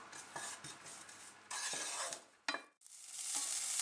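Chopped shallot and garlic frying in hot oil in a pan, a steady close sizzle broken by stirring scrapes and utensil clinks against the pan, with a brief lull before the hiss returns stronger.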